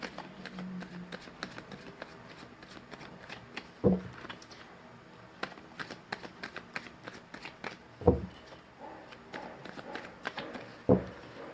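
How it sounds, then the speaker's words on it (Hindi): Deck of tarot cards shuffled by hand, soft papery riffling and rustling with a few sharper slaps of the cards, close and quiet in an otherwise calm room, no talking. "मैंने कर ली है कार्ड्स की सफलिंग"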